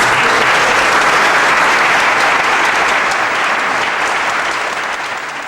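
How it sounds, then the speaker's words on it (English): A large crowd gives loud, dense applause for the guests of honor, Alfred Ford and Lisa Ruther, at a Ford event in Michigan. The clapping is continuous and fades slightly toward the end. "The biggest round of applause"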